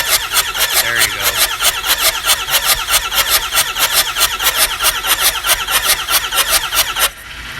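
A car engine cranks on the starter during a compression test, a loud, rhythmic chugging with a steady squeal over about seven seconds, then it stops abruptly.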